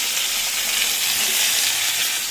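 Steady, dense sizzling of bhetki fish frying in hot oil, close and continuous with no speech.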